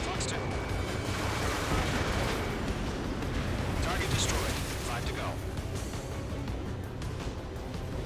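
Heavy gunfire and booming blasts from Ace Combat 7: Skies Unknown during a ground-attack mission, continuous and loud, with rapid bursts layered over a dense rumbling background.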